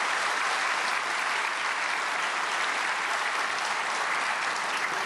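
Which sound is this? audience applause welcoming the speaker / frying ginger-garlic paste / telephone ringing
audience applause welcoming the speaker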